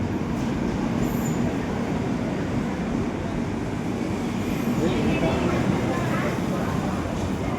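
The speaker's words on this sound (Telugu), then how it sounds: "ఇప్పుడైతే మన ట్రైన్ అయితే నల్గొండ నుంచి అయితే డిపార్ట్ అయిపోయింది." Passenger train rolling out of Nalgonda station, steady loud rumble of wheels and carriages heard from inside a coach, with a continuous rattle and faint squeals, no pauses throughout.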